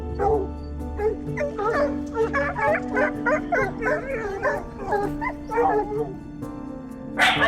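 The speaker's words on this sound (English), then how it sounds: "The barking of a dog can scare a fox and cause it to flee." A domestic dog barks repeatedly in a rapid, yappy series of barks with some whimpering yips, fairly close, continuing for several seconds before a final louder bark.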